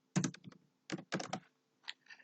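Close, quiet clicking of computer keyboard keys as a course name is typed, coming in quick uneven bursts with brief pauses, with no talking.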